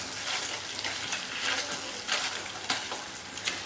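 Mashed sweet potato with sugar roasts in ghee in a pan, giving a soft continuous sizzle with gentle stirring and scraping pulses, close and fairly quiet.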